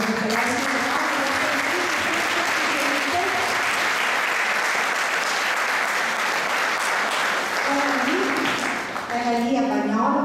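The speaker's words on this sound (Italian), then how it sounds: "io direi di fare un bel applauso" Sustained applause from an audience in a parish auditorium for the president of an association, loud and even throughout, with voices talking and calling over the clapping and a speaking voice emerging near the end.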